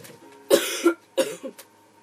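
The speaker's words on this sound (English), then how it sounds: "I'm like coughing" A man coughs twice in quick succession, harsh and close, each burst trailing into a rough throaty tail, with quiet between them.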